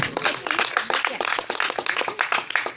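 A church congregation claps hands in praise during a Spanish-language worship service, quick rhythmic palm claps repeating steadily and fairly loud throughout.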